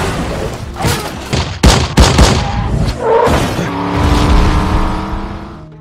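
Gunshots in a film scene: several sharp, loud cracks in quick, irregular succession, followed by a rising, roaring vehicle-like engine drone that carries on to the end.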